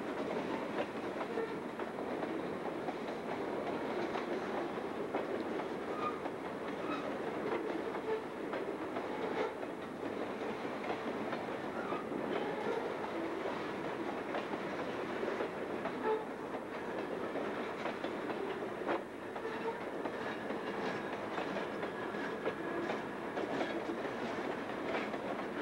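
A freight train hauling a cargo of 100-pound rail rumbles past steadily, with continuous wheel clatter and a dense mechanical roar that holds throughout.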